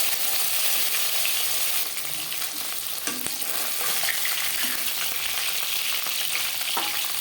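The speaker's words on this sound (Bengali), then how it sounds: "জ্যান্ত মাছ আমি একটু হালকা করে ভেজে নিলাম।" Fresh fish fries lightly in oil in a pan with a loud, continuous sizzle and crackle, punctuated by occasional stirring clinks, close and without speech.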